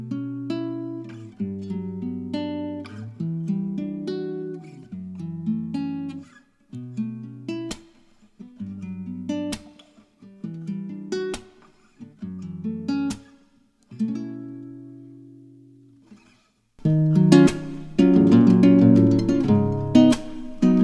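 Neo soul chord progression in a lofi style played on clean guitar, rich chords strummed and let ring with short pauses, then a denser, busier passage at the end, close and without talk.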